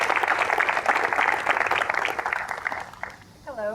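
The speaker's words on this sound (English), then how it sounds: "So if you'd please give her a welcoming round of applause." An outdoor audience at a trail hall of fame induction ceremony claps to welcome the mayor, a steady patter of applause that tapers off near the end as a voice begins.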